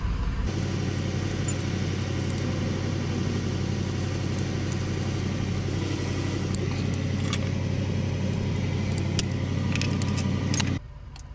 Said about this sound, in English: if you hear my truck running in the background